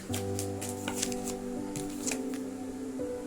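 Tarot cards are shuffled by hand during a reading, giving soft riffling and flicking bursts over a low, steady background hum, with no talking.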